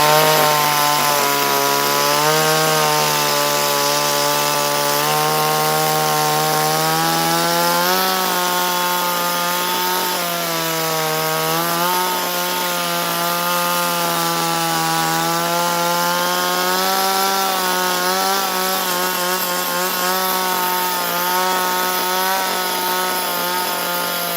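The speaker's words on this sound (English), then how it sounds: "I can't see no reason not to just cut that in with the chainsaw." A chainsaw cutting into a wooden stump to carve a pig figure, running loud and close in one long steady whine whose pitch rises and sags slightly as the chain bites the wood, with no talk.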